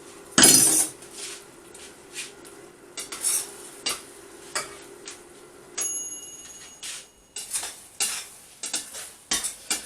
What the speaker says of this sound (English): So I'm going to be cutting the chips up into small bite-sized pieces